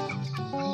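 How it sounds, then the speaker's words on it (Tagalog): A chicken clucks briefly nearby, a short run of throaty clucks with no other sounds around it. "Tapos may manok po ako ditong alaga."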